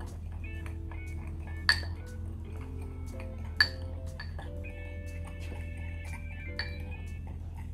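Salt, pepper and garlic powder being stirred together in a bowl for a spice rub, with a few sharp clinks of utensil against the bowl over a quiet, humming kitchen background.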